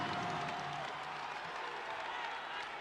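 Home crowd roaring at a FIBA Basketball World Cup game between the Philippines and New Zealand, a steady, loud wash of cheering and applause filling the arena without pause.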